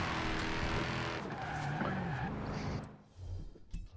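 Tyres screech in a long handbrake skid in the Full Throttle racing game, with the car engine roaring loudly throughout before the sound drops away near the end.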